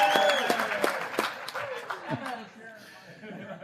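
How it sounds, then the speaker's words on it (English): Scattered applause from an audience at an AA World Convention, fading quickly, with chuckles and someone talking over it. "That's the worst applause I've ever heard."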